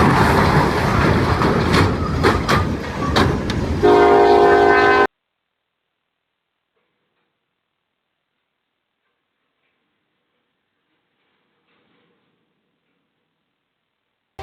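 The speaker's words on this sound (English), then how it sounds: "This train sounded its horn as it approached a dump truck crossing in Villa Aldama" A train blasts its horn while approaching a dump truck crossing in Villa Aldama, loud and close over rumbling rail noise for a few seconds, then sound cuts to silence.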